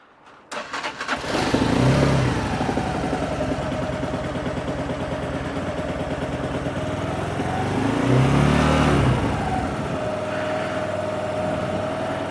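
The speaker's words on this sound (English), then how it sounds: "nicely gently lift that up, and the engine's running" A Lexmoto Venom motorcycle engine cranks and catches, then settles into a steady idle close by, briefly revving louder before easing back down.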